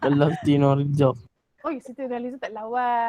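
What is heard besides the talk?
No everyday noise stands out behind the speech.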